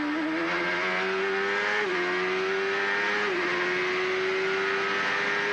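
A race car at Mid-Ohio coming off the long back straight, its engine note holding high then dropping in steps as it brakes hard, loud and steady with no talk.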